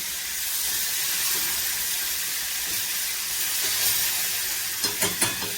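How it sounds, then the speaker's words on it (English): Flour-coated deer steaks browning in a skillet give a steady, even sizzle and hiss with no voices, and a few soft clicks near the end. "And the ones I already have in the skillet, I'm browning them."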